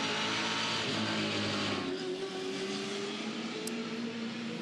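Onboard a Touring Car Masters race car at Adelaide, a Mopar machine's engine drones loud and continuous, its pitch shifting slightly as it runs at speed, with no talking.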